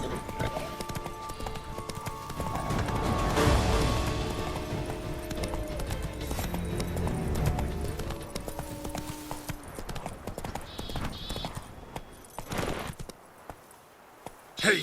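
Hooves of Roach, Geralt's horse in the video game The Witcher 3: Wild Hunt (Blood and Wine), clip-clop at a steady galloping rhythm, loud and close, with occasional whinnies and game music layered underneath.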